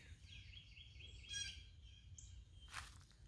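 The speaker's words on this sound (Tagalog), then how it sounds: "Basta pakinggan nyo ang mga ibon" Birds chirp and sing in short, bright phrases over a quiet outdoor background, with a sharper call near the end.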